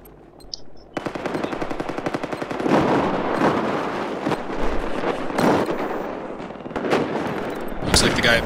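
Battlefield 4 gameplay fills with rapid automatic gunfire: long machine-gun bursts and heavy booming shots, loud and close, while players talk over the shooting.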